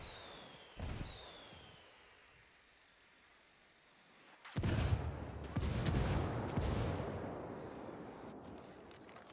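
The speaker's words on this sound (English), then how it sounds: "I called the rebels for some indirect fire." Artillery fire in the video game Ghost Recon Wildlands: a faint early thud, then from midway a rapid series of heavy, loud booming impacts rolling into each other.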